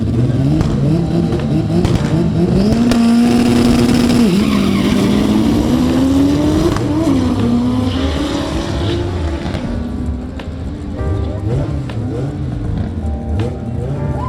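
A front-wheel-drive drag race in Jamaica, with a turbo K-swapped car and an SR20 Pulsar, fills the clip with loud, sustained engine roar that rises in pitch as the cars pull through the gears, along with tire noise and heavy crowd ambience.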